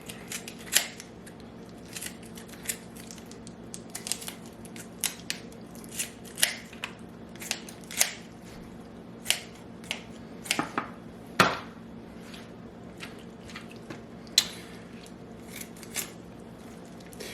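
Repeated crisp scissor snips, probably cutting packaging or material during a homestead kitchen project, come in irregular bursts with short pauses under a steady low background hum; no one speaks.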